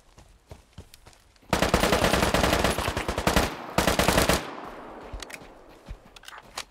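PP-3000 submachine gun fire in the video game Deadside, a loud rapid automatic burst of about three seconds with a short pause, then fading echo and scattered footsteps, no talking.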